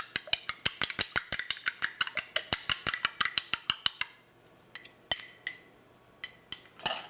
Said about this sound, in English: And then let me beat this egg up a little bit